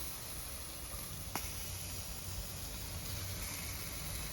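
Boerewors sausage cooking on a Hellrazr Yama grill gives off a quiet, continuous sizzle and hiss with one faint pop, steady and unbroken with no voices.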